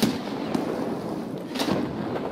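A grenade goes off in a first-person shooter video game, heard as a sharp burst followed by a second muffled blast a second later, with no talking over them.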